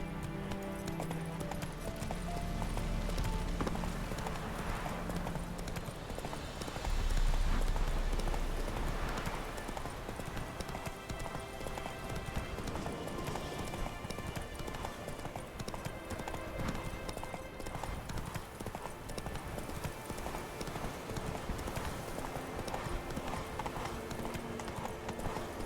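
Hooves of the horse Roach clip-clopping in The Witcher 3, a steady trotting rhythm running throughout over game ambience, with brief spoken lines.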